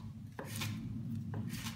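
Knife slicing through a rolled ball of basil leaves, two short crisp cuts close up against a constant low background rumble.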